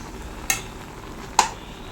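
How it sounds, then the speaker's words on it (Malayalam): Fish aviyal curry, made with natholi anchovies in the Kerala style, being stirred in a pot on the stove: two brief, distinct scrapes of a spoon against the vessel over a steady low simmering hiss, with no voices. "നമ്മുടെ അവിയലിൻ്റെ കഷ്ണങ്ങളൊക്കെ തിളച്ചിട്ടുണ്ട് നമുക്കൊന്ന് ഇളക്കി നോക്കാം"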